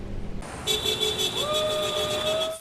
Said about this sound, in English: Flags waving, cars honking.